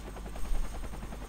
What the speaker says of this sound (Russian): Опа, и вертолет появляется.